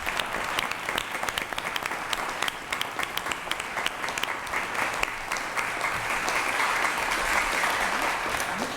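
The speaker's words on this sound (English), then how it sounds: "Let's have a round of applause for James Payne." An audience claps for the newly named governor of the 2012 Virginia Boys State as he stands on stage, a steady round of applause with sharp individual claps throughout and a faint voice underneath.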